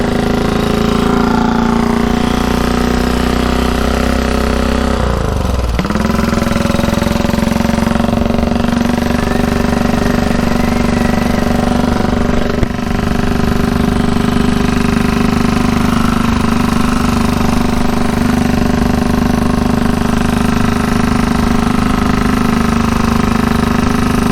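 A 1934 Velocette KTT motorcycle engine runs loudly and continuously on the road, a close, steady drone with a brief dip in pitch partway through, like a gear change, and no voices.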